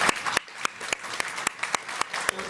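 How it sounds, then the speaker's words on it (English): A courtroom audience claps for military veterans, a sparse round of distinct, separate handclaps over a low wash of smaller claps, spaced unevenly throughout. "I think we give a round of applause to the people who've served our country"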